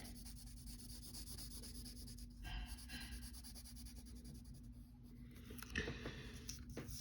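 A pencil lightly shades a drawing of Daffy Duck, soft scratchy strokes on paper coming in short bursts, close but very quiet against a faint steady background hum.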